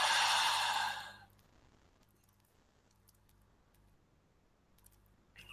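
A deep breath slowly released during a guided hypnosis relaxation: a soft, breathy exhale lasting just over a second, followed by near silence with faint clicks and a small breath sound at the very end.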